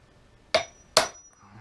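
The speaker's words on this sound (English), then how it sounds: "I prefer to use a smaller hammer for this particular task. There, it's going in now." Small hammer striking a metal punch twice in quick succession, two sharp close metallic clinks with brief ringing decay, in a quiet setting with no talking.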